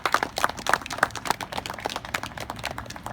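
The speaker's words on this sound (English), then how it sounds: "Let's give each one of our students and the JROTC and everyone here a round of applause" A small round of clapping at a Wreaths Across America ceremony at Goff Middle School with JROTC cadets present: scattered, uneven hand claps that are fairly near and thin out toward the end.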